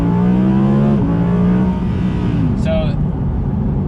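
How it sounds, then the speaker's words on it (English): A 2020 Audi R8 V10 engine holds a steady loud idle-like drone before rising into a rev as the car launches, with the engine note shifting pitch partway through and a brief squeal near the end. "you'll hear the engine rev up and then the car just shoots off"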